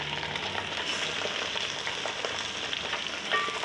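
One kilo of chicken frying with onions over medium flame, a continuous even sizzle close to the pan with faint stirring, no voices.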